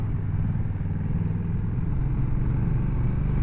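A Honda NT1100 DCT motorcycle with an automatic dual-clutch gearbox pulls away, giving a steady, smooth low engine rumble that stays close and even, with no speech.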